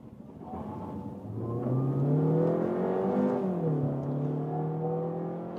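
A VW Passat B9 eHybrid plug-in hybrid accelerates at full throttle with petrol engine and electric drive together, a steady rising engine drone that climbs in pitch and swells, close and continuous, with no talk over it.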